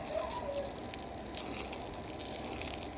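Water poured onto garden soil in a small vegetable patch, a continuous gushing splash running throughout, close and steady with no clear talking.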